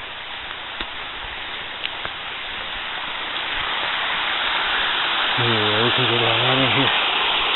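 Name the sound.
creek water flowing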